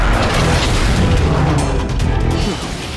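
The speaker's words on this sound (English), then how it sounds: "Micro missile. Fire!" A micro missile fires and explodes in an animated battle scene, a loud, broad booming blast that rumbles on for a few seconds before fading slightly at the end.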